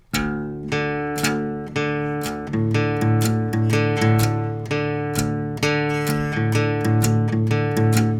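A palm-muted electric guitar riff chugs in a low tuning, steady rhythmic bursts with a swinging feel, played alone and clearly up close.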